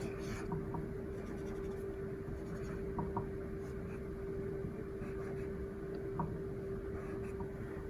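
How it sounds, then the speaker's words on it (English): Pen writing words for a comic thought bubble, a faint scratching of strokes under a steady background hum and low room noise. "I'm going to write the words first and then do the bubble around it."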